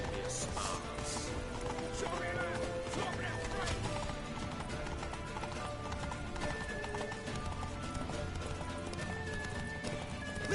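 Horse hooves clip-clop steadily with an occasional neigh in the video game Witcher 3, loud and busy amid game sounds and music, with some shouted voices.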